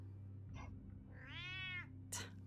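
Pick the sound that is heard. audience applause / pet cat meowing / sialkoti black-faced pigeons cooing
pet cat meowing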